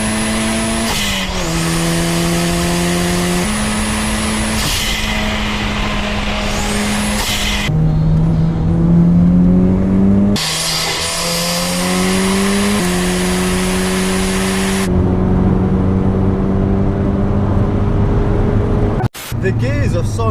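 An old car's engine revs hard through long gears, each pull rising steadily to the red line before a shift drops the pitch, loud and close with brief gaps between runs.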